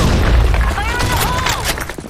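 A grenade goes off in a desert combat video game mission, a heavy boom in the opening moment followed by rumbling debris and scattered gunfire, with a voice shouting over the noise.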